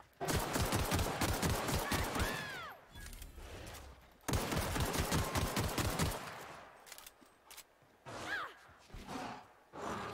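Gunfire in the video game The Outer Worlds, loud rapid automatic bursts in two long volleys separated by a short gap, followed by scattered shots and quieter game sounds.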